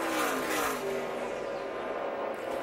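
NASCAR Sprint Cup race cars at Pocono Raceway roar steadily down the Long Pond straight during the 2010 Pennsylvania 500, a loud sustained engine howl with no break.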